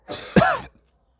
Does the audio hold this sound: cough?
yes